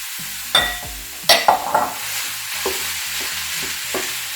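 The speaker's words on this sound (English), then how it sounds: "beef in the pan. And we're gonna add one chopped onion." Ground beef and one chopped onion fry in a pan for a 1980s-style taco salad, with a steady sizzle under several loud, close scrapes and clunks of stirring.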